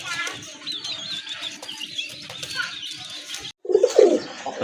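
Native Bengali deshi pigeons coo in a close, busy group, with soft overlapping calls, a brief wing flutter and a louder burst near the end.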